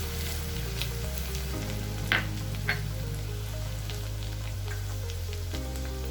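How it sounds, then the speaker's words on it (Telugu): Ginger and garlic fry in hot oil for a ridge gourd prawn curry, giving a steady, even sizzle throughout over a faint tonal background hum, with no talking. "ముందుగానే అల్లం వెల్లిపాయలు వేస్తున్నాను. కొద్దిగా ఫ్రై అవ్వాలా."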